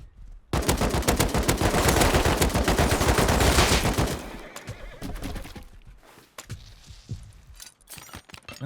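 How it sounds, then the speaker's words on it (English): Horse sounds from a video game: a loud, close neigh with rapid galloping hoofbeats and bursts of gunfire, fading after about four seconds to quieter scattered hits and hooves. "Someone's chasing me with a horse, I think."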